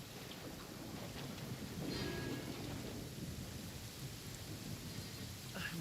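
Steady rain with a low rumble of thunder in the video game Genshin Impact, a soft continuous wash of rainfall with no voices over it.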